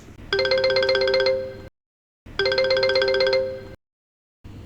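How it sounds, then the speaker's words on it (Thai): A telephone rings in two long electronic trilling bursts separated by a short silence, then a third begins, clear and fairly loud. "เสียงโทรศัพท์ก็ดังขึ้นกลางดึก"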